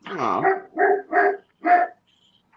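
A dog barks four times in a loud, close, irregular series of full-throated barks, with a short gap before a faint fifth sound at the end.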